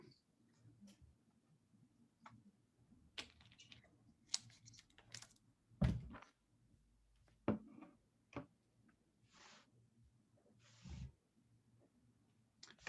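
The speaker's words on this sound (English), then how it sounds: "Plenty of people typing away." Quiet, scattered keyboard typing with irregular clicks and taps, some louder keystrokes standing out against a soft background.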